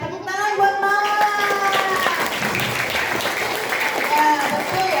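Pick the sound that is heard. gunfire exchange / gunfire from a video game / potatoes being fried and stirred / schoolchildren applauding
schoolchildren applauding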